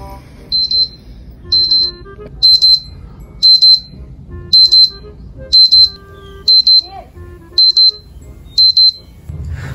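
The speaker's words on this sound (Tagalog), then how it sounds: "Bakit ang ingay ng alarm ko?" An alarm clock rings in repeated pairs of shrill high beeps at a steady rhythm, about nine bursts separated by short quiet gaps, loud and close, with faint voices underneath.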